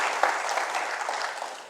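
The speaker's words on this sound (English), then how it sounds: "I think you all deserve a round of applause." An audience at the eNaira launch event at the Central Bank of Nigeria gives a brief round of applause, a soft, even patter of clapping that lasts under two seconds.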